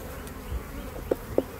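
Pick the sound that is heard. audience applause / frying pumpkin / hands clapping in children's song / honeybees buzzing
honeybees buzzing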